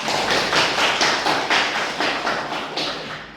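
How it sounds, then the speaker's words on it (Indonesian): A small group in a classroom claps steadily and briskly for a few seconds for a presenting student group, close by, with a rhythmic pattern of rising and falling bursts. "tepuk tangan untuk kelompok 3"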